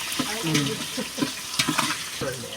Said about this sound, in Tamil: அதுக்கடுத்து வெங்காயம் பொன்னிறமாக வதக்கணும்